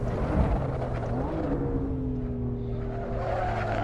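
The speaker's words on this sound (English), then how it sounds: "A lot of more back end slide, actually using it to help steer the car." A BMW M4 sliding its rear end through a corner in the Assetto Corsa racing game, with a steady engine drone that slowly falls in pitch under a rough tire scrub and squeal.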